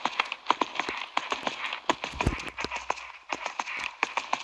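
Horse hooves in Equestrian the Game beat in a quick, steady clip-clop rhythm, close and clear, with one heavier thud partway through as the horse moves around a jumping course.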